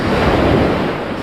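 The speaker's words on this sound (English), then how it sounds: "with the tide coming in and the waves crashing" Ocean waves crash on the beach at Lido Key as the tide comes in before a hurricane, a loud, continuous broadband wash of surf and wind filling the whole moment with no voices.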